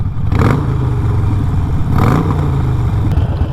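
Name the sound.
motorcycle engine revving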